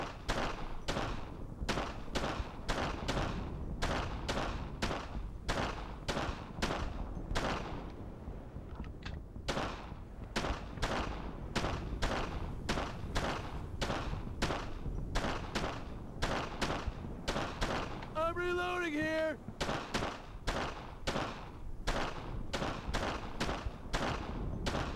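Sustained gunfire in the World War II shooter Brothers In Arms: Road To Hill 30 on PlayStation 2, with sharp repeated shots at a steady cadence for the full length and a brief pause near the middle.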